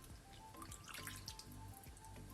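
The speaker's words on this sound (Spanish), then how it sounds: "Y le ponemos como un cazo del caldito" A ladle of pork cooking broth is poured into a pan of pig's trotters in tomato sauce, giving soft dripping and trickling splashes over a low simmering background, with no talk.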